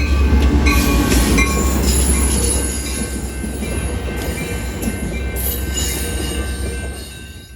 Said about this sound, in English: Must be the old Sounder commuter.